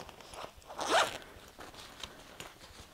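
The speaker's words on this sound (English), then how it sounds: "Zip pocket here." A zipper on the pocket of a Sak designer beach bag is pulled once in a quick, close rasp, with only faint handling noise around it.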